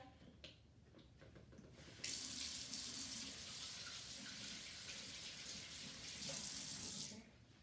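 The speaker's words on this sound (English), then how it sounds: "so let me wash my hands so I can put oil on it" A tap runs steadily into a sink while someone washes their hands, a close, even rush of water lasting about five seconds before cutting off, with faint handling noise before it starts.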